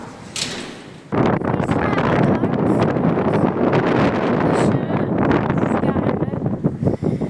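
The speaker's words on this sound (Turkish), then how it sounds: "Arkadaşlar burada biraz rüzgarın dinmesini bekleyeceğiz. Kapıda kapanmıyor rüzgardan." Strong wind roars and buffets the microphone in a continuous, loud rush in a garden, with faint voices in the background.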